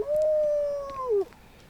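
The dog companion in the video game Fallout 4 lets out a single drawn-out whine that holds steady and then dips at the end, fairly loud and close, with no speech over it.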